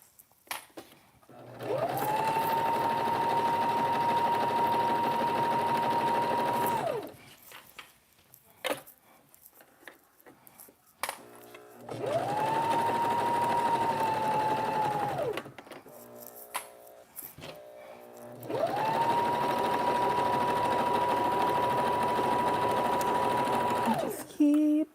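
Three long bursts of sewing machine motor whir alternate with quieter gaps as a machine sews kitchen curtain drapes, the runs steady and fairly close, with a voice talking between and around them.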